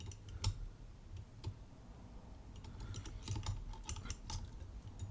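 A pick working the pins of a seven-pin Yale lock, with small sharp clicks and ticks scattered irregularly, close and quiet over faint background noise, with no talking.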